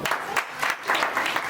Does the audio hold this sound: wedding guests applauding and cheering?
yes